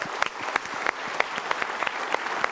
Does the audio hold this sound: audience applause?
yes